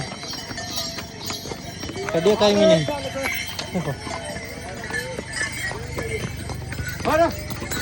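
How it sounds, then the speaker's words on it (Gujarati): A line of horses clip-clopping along the rough, slippery Kedarnath trek path, hooves knocking unevenly nearby beneath a person talking throughout. "તો કઈ જો લાઈન છે બધા ઘોડા આવ્યા"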